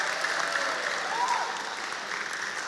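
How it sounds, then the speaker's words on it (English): A lecture audience at a mental health awareness session applauds, dense steady clapping throughout at moderate level, with a faint voice briefly audible underneath. "let's put our hands together one more time for our next lecturer"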